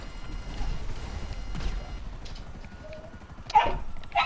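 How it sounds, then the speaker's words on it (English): A dog barks in a game setting, a few short sharp barks at moderate distance standing out over a steady busy background, loudest near the end. "Dog, be quiet."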